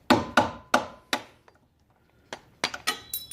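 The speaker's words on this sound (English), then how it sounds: "get the large flathead and get the hammer, and you're gonna want to hit this right here at the corner" A hammer strikes a large flathead screwdriver on a car's brake line clip, four sharp metallic taps in quick succession, then a pause and a few more quick hits, close and crisp.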